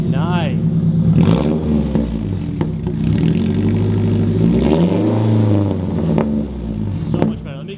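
A Subaru BRZ drift car with a newly fitted exhaust starts and idles, its engine note rising and falling in a few revs. People talk over the engine throughout.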